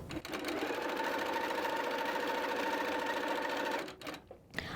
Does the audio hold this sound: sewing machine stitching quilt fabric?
yes